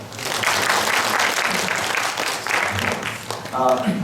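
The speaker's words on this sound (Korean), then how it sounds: "박수 한번." A church congregation claps for first-time visitors at a Sunday service, a lively round of applause that rises and falls briefly, with some voices mixed in near the end.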